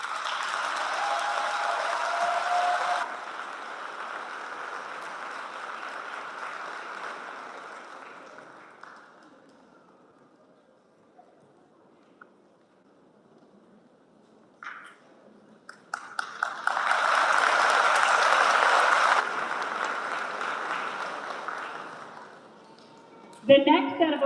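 Applause at an 8th grade middle school moving-on ceremony comes in two broad bursts of crowd clapping, a short one at the start and another later, with a speaker talking between them.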